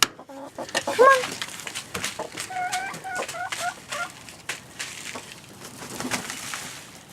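Chickens cluck and call as they come out of their coop in the morning, with several clear, close squawks and rising calls in short bursts and softer clucking between them, and no talk.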